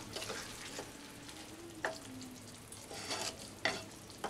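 A spoon stirs pointed gourd curry in a pan, a soft scraping and sizzle with a few sharper clinks of utensil on metal, close up and quiet.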